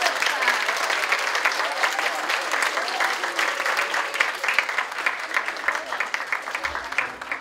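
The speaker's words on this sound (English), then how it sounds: "applause for Mrs. DeViolet's class" Steady crowd applause for Mrs. DeViolet's class at a DARE graduation ceremony at Americana School, dense and even throughout with faint voices mixed in beneath.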